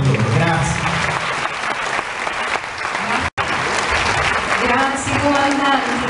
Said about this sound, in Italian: Un grande applauso per loro.